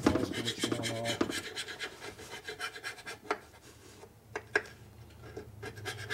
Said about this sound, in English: So even though I scraped it with the other scraper, you can see how it gets the paint and stuff off.